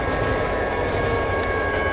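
An EMD locomotive train rolls along the rails in the Trainz 2010 simulator, giving a loud, steady rumbling roar with faint clicking and squealing from the wheels, continuous and close.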